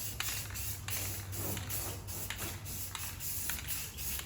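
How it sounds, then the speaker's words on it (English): Spray paint hissing onto an Acura RSX car panel as a dark base coat, in short repeated bursts of faint airy hiss with a low steady hum underneath. "We are not using this really good spray paint. We're just gonna give it a base."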